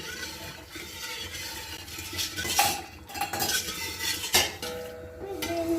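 A spoon scrapes and clinks against a metal pot while stirring sugar to melt it for peach compote, with a few louder knocks and a soft hiss in the background.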